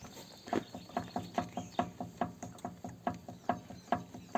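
Rhythmic metallic knocking repeats about every quarter second, a steady clunk-clunk from a worn steering tie rod ball joint on a DTZ 5244 HPX tractor, close by with no talking.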